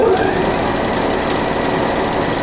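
Close, loud, steady mechanical whir of a sewing machine topstitching a quilted lining on a fabric clothes-organizer envelope, running continuously without pause and with no talk.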